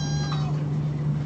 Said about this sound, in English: A lack of meows.